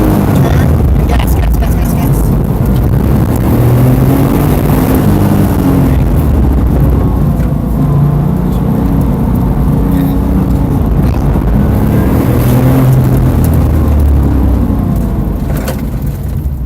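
A car engine drones loud and steady at full throttle during a driving practice session, its note rising and falling with the driving, while an instructor talks over it throughout.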